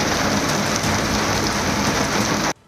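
Heavy rain pours down on Bengaluru in a steady, loud, dense hiss that cuts off abruptly near the end.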